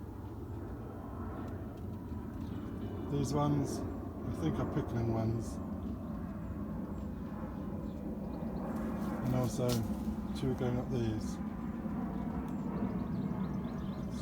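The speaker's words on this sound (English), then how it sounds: "Excuse the plane over the top." A propeller airplane drones steadily overhead above an allotment garden, a continuous low hum that runs beneath someone speaking throughout.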